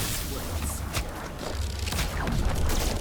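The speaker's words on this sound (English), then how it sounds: "That's a lot of gunfire." Rapid gunfire and explosive bursts in the video game Ultra Mega Cats, a dense continuous barrage with booms and whooshes layered over steady game noise.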